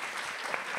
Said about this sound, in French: Ça fait toujours du bien, les applaudissements pour les intervenants.